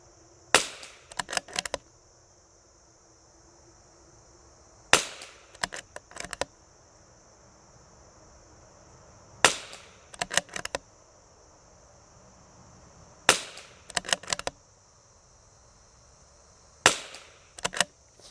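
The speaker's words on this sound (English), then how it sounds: "So we're gonna shoot SK rifle match." A CZ 457 rifle is fired with SK rifle match ammunition: sharp, distinct shots at an outdoor range, each followed by a quick cluster of crackling echoes or clicks, repeating about every four seconds over quiet background hiss.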